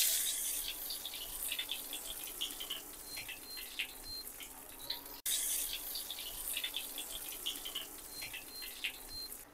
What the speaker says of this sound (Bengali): এখন আমরা এটা তেলে ফ্রাই করে নেব।